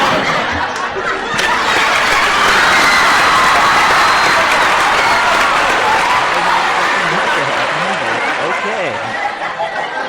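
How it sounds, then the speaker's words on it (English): A crowd cheers and applauds loudly and continuously, with clapping, whoops, laughter and chatter blending into a dense wash of noise mixed with voices. "And the crowd goes wild!"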